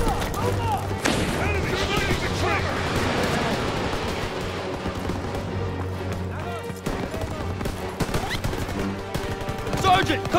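Machine gun fire in a World War II battle from Call of Duty WW2 rattles steadily under shouted soldier voices, mixed with other gunshots and bangs at moderate loudness.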